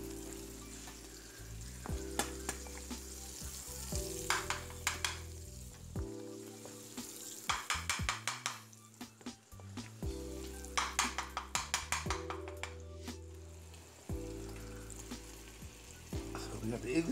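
Butter frying in a pan alongside sausage, bacon, pancakes and eggs for breakfast, a close steady sizzle broken by rhythmic scraping and tapping of a utensil moving it around, over a low humming background.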